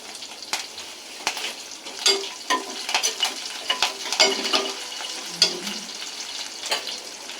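Curry leaves crackling and spitting in hot oil in a home kitchen, a steady bright sizzle broken by sharp pops and a few stirring scrapes, close and fairly loud with no talking.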